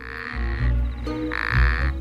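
An Arabian toad croaks its mating call loudly and close, two long buzzy calls separated by a short pause, with a chorus of other frogs behind.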